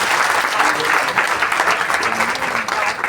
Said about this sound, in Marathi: एकदा जोरदार टाळ्या वाजवा आईंसाठी